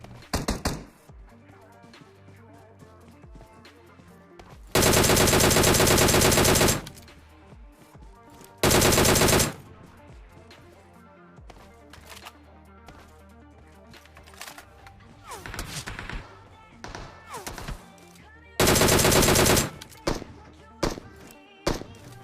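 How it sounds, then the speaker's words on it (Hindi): Bursts of SKS rifle fire in a PUBG-style battle royale video game, loud sustained volleys at three moments among quieter game sounds, with a distant burn house setting. "सामने वाले बर्न हाउस से एक बंदा SKS चला रहा होता है"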